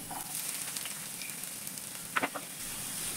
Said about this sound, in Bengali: এবার আমি এই তেলের মধ্যে কিছুটা কেটে রাখা পেঁয়াজ দিয়ে দিচ্ছি।